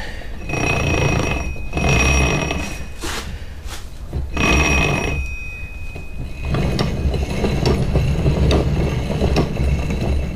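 A UAZ Patriot transfer case turning with four-wheel drive engaged, a loud steady mechanical whir with rattling gear clatter and a high whine, a few sharper clanks partway through.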